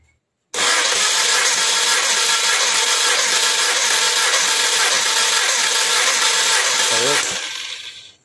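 A Volkswagen Type 1 engine cranks on the starter during a compression test, giving a loud, steady churning drone for about seven seconds before it stops and winds down.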